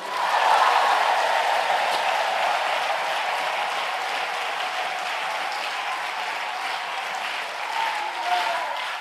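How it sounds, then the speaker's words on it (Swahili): A large crowd applauds in a sustained, even roar of clapping that holds steady and swells slightly near the end, with no distinct cheers standing out. "Piga makofi na shangwe."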